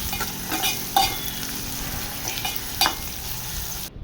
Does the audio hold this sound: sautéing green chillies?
yes